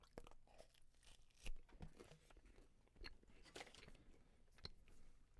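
Someone bites and chews Costco pizza close to the microphone, with crunchy bites and wet chewing sounds in an irregular rhythm and no talking.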